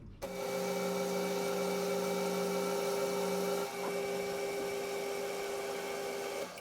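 A metal lathe with an imperial lead screw and gearbox runs a thread-cutting scratch pass, giving a steady mechanical hum and whine with a brief shift partway through, heard alone and close.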